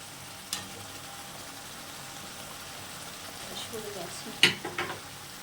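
Boiled banana flower going into a frying pan for a prawn ghonto, a faint steady sizzle with a few sharp clatters and scrapes as it is tipped in and moved around.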